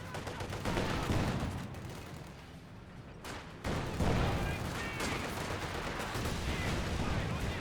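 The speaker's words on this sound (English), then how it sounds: "Incendiary mortar barrage burning the 7-man conscript squad." Incendiary mortar barrage in Company of Heroes 2 pounding a seven-man conscript squad: dense, continuous crackling bursts and rumbling impacts, loud and sustained throughout, with a brief lull before the shelling surges again.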